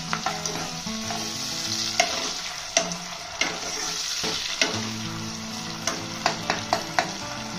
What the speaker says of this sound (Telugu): తర్వాత కట్ చేసి పెట్టుకున్న టమోటాలు కూడా వేసుకోవాలి. ఇవన్నీ బాగా ఫ్రై చేసుకోవాలి.